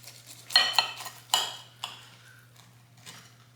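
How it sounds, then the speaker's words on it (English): A knife slicing through an egg-white bagel sandwich with a fried egg, giving a few close, soft cutting scrapes and light clinks of cutlery against a plate, short bursts separated by pauses. "Okay, now I'm gonna try cutting it."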